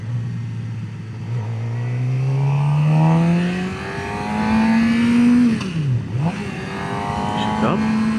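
A motorcycle engine revs up steadily, dips sharply as the rider pulls the clutch and shifts down, then climbs again. It is a loud, close, continuous drone with a clear pitch drop at the gear change.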